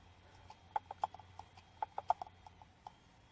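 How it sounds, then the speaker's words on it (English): An external hard drive with a faulty mechanical arm makes repeated small, sharp clicks in irregular clusters, faint and close, with no talking. "Hear the little clicky click noise? Because it has a mechanical problem with that arm."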